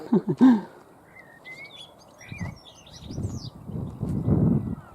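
Small birds chirp and trill in short high phrases in spring, fairly near, with a brief low thump at the start and soft rustling below.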